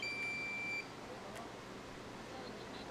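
A high steady electronic low-battery beep from a drone sounds for under a second at an indoor karting track, then stops, leaving a constant low background hum.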